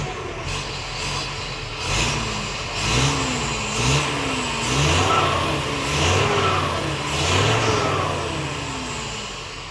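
A heavy Hino truck engine revs up repeatedly in rising, growling bursts, loud and close, with a steady rumble underneath between the surges.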